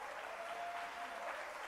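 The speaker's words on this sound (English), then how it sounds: "I need you to clap for that one." Steady applause from an audience at a city government's State of the City address, a dense continuous patter of clapping held at an even level throughout.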